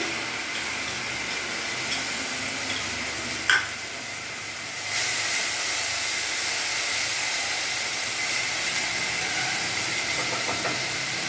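A paste of ginger, garlic, cumin and green chilli frying with onions in hot oil, a dense continuous hiss and sizzle that swells louder partway through, with a brief clatter and no voices.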